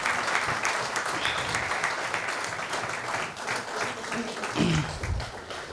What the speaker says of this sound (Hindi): एक जोरदार तालियां होनी